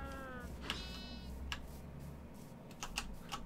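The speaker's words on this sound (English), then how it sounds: "That's a lot of sheep." Sheep bleating in a blocky sandbox video game, a couple of short wavering bleats near the start over a steady low hum, followed by scattered faint clicks and taps.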